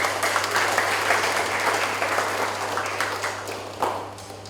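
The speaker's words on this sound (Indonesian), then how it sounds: "Kita berikan aplaus kepada orang tua." An audience at a primary school graduation and farewell applauds the parents, dense sustained clapping from a crowd that fills the room and fades slightly toward the end.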